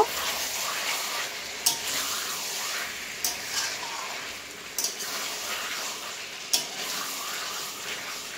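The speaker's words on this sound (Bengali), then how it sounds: "এবার কিছুটা পরিমাণে জল দিয়ে মাংসটা ভালোভাবে সেদ্ধ করে নেব" Desi chicken simmers in a pan with water added, making a soft, continuous bubbling sizzle. A few sharp clinks of a spoon against the pan punctuate it now and then.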